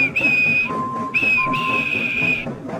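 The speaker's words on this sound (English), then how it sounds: "And he blew his whistle." Steam engine whistle from Edward the engine, two sustained high shrill blasts with a brief gap between, loud and close with no talk.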